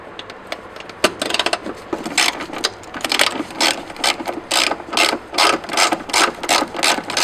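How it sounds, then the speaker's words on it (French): A ratchet removes the battery tray screws on a Renault Twingo II 1.2 petrol. Close, rapid clicking comes in a series of short repeated bursts. "Enlevez le bac de la batterie. Pour cela, enlevez les 3 vis qui se trouvent au fond."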